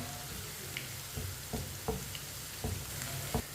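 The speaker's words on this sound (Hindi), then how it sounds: "प्याज को हल्का सा ब्राउन कर लेंगे। इसे चम्मच चलाते हुए ब्राउन करना है।" Onions brown in a pan while a spoon stirs them. A steady soft sizzle runs throughout, broken by a handful of light scraping knocks at a regular pace.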